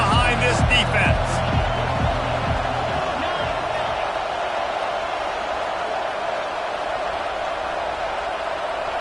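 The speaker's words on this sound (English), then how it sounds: "Big third down as the crowd gets behind this defense." Stadium crowd at a football game roars behind the defense on a big third down, a loud sustained wash of cheering with a rhythmic stamping or clapping pulse early on that fades into steady crowd noise.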